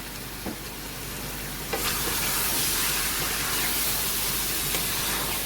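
Tomato paste and curry leaves sizzle loudly in hot oil with browned chicken for Sindhi chicken biryani, a steady close frying hiss that swells after a brief stir, with no talking.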